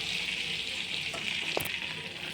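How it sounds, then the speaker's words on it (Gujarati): Butter and pav bhaji masala sizzle in a kadai, a dense and steady bubbling hiss heard up close, with one quick metallic stir near the end and no voices. "કઢાઈની અંદર ત્રણ ટેબલ સ્પૂન જેટલું મેં બટર નાખ્યું છે"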